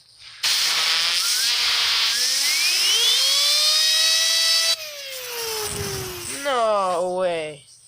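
Fidget spinner lubricated with WD-40 spinning very fast, a loud close whine that rises in pitch and then slowly descends as it winds down, with someone talking over the end.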